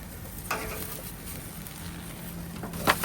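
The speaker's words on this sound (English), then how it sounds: "still sizzling away, bubbling" Quiet, steady sizzling and soft bubbling of food cooking on a gas grill, with a few brief louder crackles and pops.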